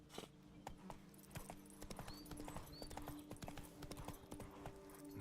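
Roach, the horse in The Witcher 3, gallops with rapid, rhythmic hoofbeats clopping close by, a brief whinny-like cry mixed in and a faint voice at times.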